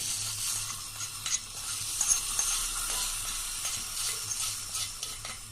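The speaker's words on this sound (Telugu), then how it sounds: "దాంట్లో పోపు ఇది మెంతి మజ్జిగలోకి మిరపకాయలు, పచ్చిమిరపకాయలు, ఆవాలు, జీలకర్ర, మెంతులు" Steady hiss of a tempering of mustard seeds, cumin, fenugreek seeds and red and green chilies sizzling in hot oil, with a few soft clinks and stirring scrapes, no voices.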